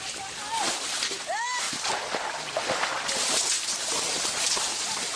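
Water splashes and sloshes continuously as people bail a river by hand and with large leaves and pots, scooping water from one dammed pool to another in the Amazon; voices are heard throughout over the splashing.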